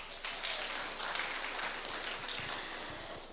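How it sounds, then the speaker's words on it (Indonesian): Audience applause from a seminar crowd of young participants, a dense steady wash of clapping lasting a few seconds, moderately distant and fairly even throughout. "Tepuk tangan buat teman-teman semuanya."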